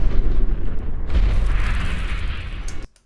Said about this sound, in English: the A-bomb nuclear kind of deal going through like analog distortion, probably like a Nagra recording